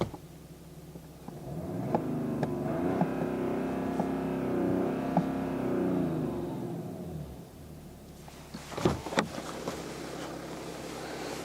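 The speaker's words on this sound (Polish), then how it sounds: "Przyznam się, że dźwięk nie jest imponujący, ale silnik nie dał się wkręcić powyżej 4000 obrotów na minutę." BMW 750d xDrive diesel from 2014 heard inside the cabin, a muted engine drone building and fading over several seconds, then a few knocks and a steady low hum.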